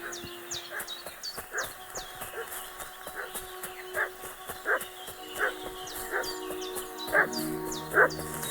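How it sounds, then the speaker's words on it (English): Dog in the Kingdom Come: Deliverance II medieval village setting barks repeatedly in an agitated, irregular series, moderately near, with rooster-like calls and ambient game sounds around it. "What's that dog making such a fuss about?"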